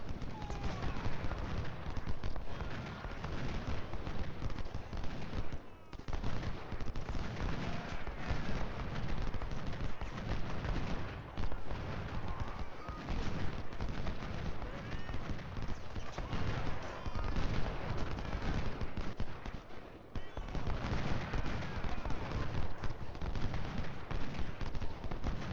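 Dense, continuous rifle fire crackles from cavalry in a Civil War strategy video game, with volleys overlapping steadily and brief lulls in between.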